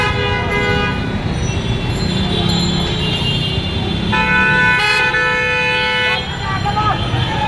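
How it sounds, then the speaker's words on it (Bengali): Vehicle horns honk repeatedly in Dhaka city traffic, several overlapping toots and longer blasts standing out over a steady roar of engines and street noise, close and loud throughout. "হর্ন ছাড়া আর কিচ্ছু শোনা যায় না।"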